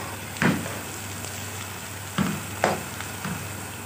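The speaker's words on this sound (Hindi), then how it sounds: "ये प्याज को हम फ्राई कर रहे हैं" Onions frying in oil for a khandvi dish give a steady sizzle, with a few louder scraping stirs and clatters along the way. No voices.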